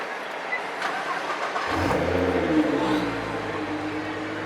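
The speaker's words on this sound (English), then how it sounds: "Imran starting the car for us." Nissan GT-R in matte metallic wrap at an auto expo fires up about a third of the way in, then settles into a loud, deep, steady rumble with brief revs over a busy crowded hall.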